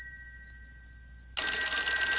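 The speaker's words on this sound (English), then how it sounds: "that sounds like the phone, Evan." A telephone rings in a radio sports-show studio, first as a faint steady tone, then a loud electronic ring bursting in and continuing without pause.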